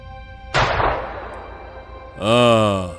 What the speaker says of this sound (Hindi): अब मैं गोली चलाऊंगा, शेर जरूर बाहर आएगा।